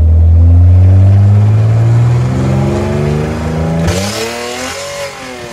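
An SLK go-kart fitted with nitrous revs hard and loud up close, its engine note climbing in rising sweeps for several seconds before easing off near the end.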